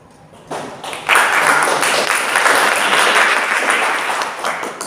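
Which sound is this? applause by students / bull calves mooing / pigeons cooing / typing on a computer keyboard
applause by students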